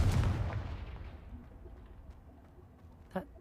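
Confringo fire spell blast in the Hogwarts Legacy video game, a loud booming burst at the start that decays into a fading rumble, followed by a brief sharp knock near the end.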